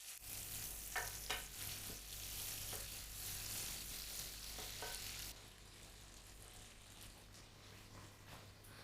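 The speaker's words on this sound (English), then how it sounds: "And now we'll let them get nicely golden and roasted in the butter." Almonds roast in melted butter in a pan, giving a steady soft sizzle with occasional stirring scrapes, fairly quiet and without talk.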